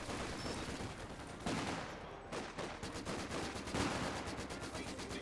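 Machine gun fire in Company of Heroes 2 as a machine-gun team covers an advance: fairly faint, steady stuttering bursts of rapid gunshots rattle on under a dense battlefield din, with no voices heard.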